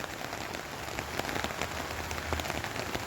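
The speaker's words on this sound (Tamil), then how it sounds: "லேசான மழை." Light rain falls steadily, a dense even patter of drops hitting surfaces with scattered louder splashes, continuous and close, with no voices.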